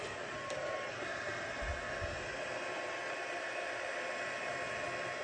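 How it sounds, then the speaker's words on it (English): A heat embossing tool runs at a steady, close, loud whooshing blow, like a small hair dryer, continuous through the whole stretch with no talking. "I'm just going to heat up my heat tool"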